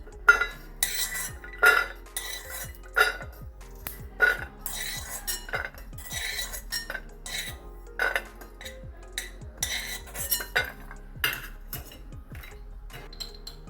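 Spices are dry-roasted and stirred in a hot, oil-free pan: rapid metallic clinks and scrapes of a spoon against the pan come in uneven bursts over near silence, close and fairly loud, with no sizzle or talking.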